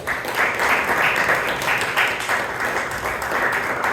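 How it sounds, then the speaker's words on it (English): Members at a Toastmasters club meeting in Bangalore applaud a speaker, a steady, fairly loud spell of clapping that carries on evenly for several seconds. "Please give Pradeep a big round of applause."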